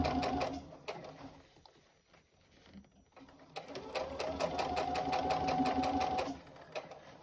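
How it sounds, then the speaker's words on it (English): Sewing machine stitching folded 1.5 inch webbing handles onto a tote bag, running in steady close bursts with a brief pause midway, then a longer even run that stops near the end. "so we're sewing these handles"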